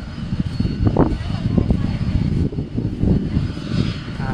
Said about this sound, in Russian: Вон как раз самолет летит.